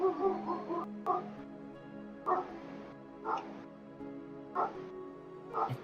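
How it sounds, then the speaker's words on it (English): A neighbor's dog barks repeatedly from a distance, sharp yips and whining barks in irregular bursts, fairly faint against a quiet room. "That's my neighbor's dog."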